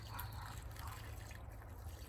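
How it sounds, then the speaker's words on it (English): Water is poured steadily around the soil of a freshly repotted houseplant, a soft continuous trickle and splash that is faint and close, with no talk. "Now we're going to give this plant a really thorough watering all the way around"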